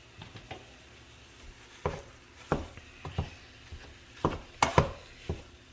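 Ground chicken browning in oil in a pot over a medium burner, heard as a low sizzle broken by scattered scrapes and clinks of a utensil stirring against the pot, irregular and close.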